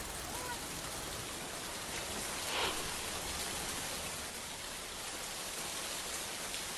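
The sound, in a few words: rain falling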